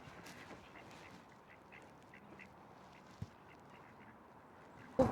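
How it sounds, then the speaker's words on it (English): Ducks quack in a series of short, nasal calls at moderate distance by the river in Bakewell, with a soft outdoor background and a sharp knock near the end. "there's always lots of ducks around here"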